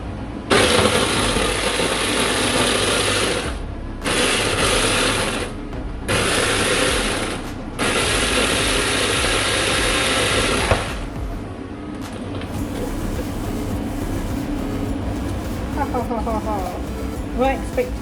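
A blender whizzes food for dinner dishes in four loud, close bursts of high-pitched whirring separated by brief pauses, then falls quiet as people start talking.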